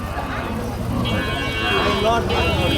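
Sahiwal bulls moo and low in the background while people talk nearby at the Ambari cattle market in Dinajpur, with a busy outdoor murmur around them.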